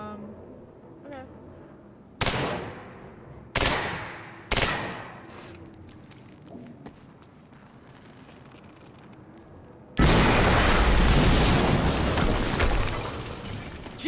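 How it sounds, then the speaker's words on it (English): Explosions in the video game Quantum Break: several sharp, loud blasts go off in quick succession, followed by quieter rumble, then a sustained roaring burst of noise near the end. "HQ, we just heard an explosion near the harvesting perimeter"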